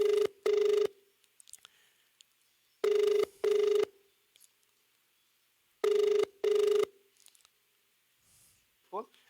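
A telephone rings back on a broadcast call line, repeating a steady double-burst pattern three times at regular intervals with quiet gaps between, loud and clear, followed by a brief faint voice at the end.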